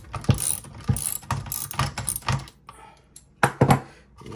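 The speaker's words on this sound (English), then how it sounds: "Break that nut loose." Metal clicks and ratcheting turns come from loosening a nut while taking apart an Alpharms Silver Eagle gun, with a short run of sharp mechanical taps, a brief pause, then a louder cluster close by.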